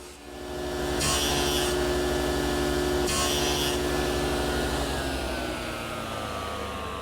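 A table saw cuts a tenon shoulder on a wooden rail for plantation shutters: a steady motor hum with two short, louder bursts of blade biting into the wood, then the spinning blade winding down.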